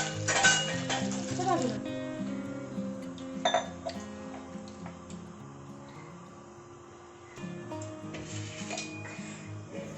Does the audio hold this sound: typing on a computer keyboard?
no